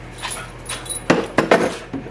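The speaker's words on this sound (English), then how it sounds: "There's our doggy." A household dog whimpers and whines in several short, close bursts over a steady low indoor hum, the cries growing stronger in the second half.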